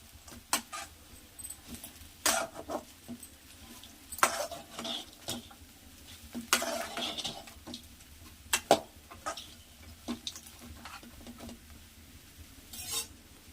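Bitter gourd is stirred in a dry pan over a high flame before any oil goes in. Bursts of scraping and clattering from the spoon against the pan come close and irregular over a faint sizzle.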